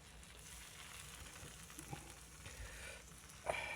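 Buttered tuna melt sandwich sizzling on a Foreman grill, a steady close frying crackle with faint pops and a brief clank near the end.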